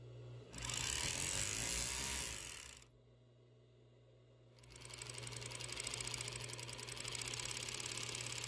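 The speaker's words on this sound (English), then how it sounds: "I was trying to keep the Merrow machine running at a moderate" A Merrow overlock sewing machine runs close up in two bursts, a fast steady mechanical whirr and rattle separated by a lower hum, the second run starting softer and building.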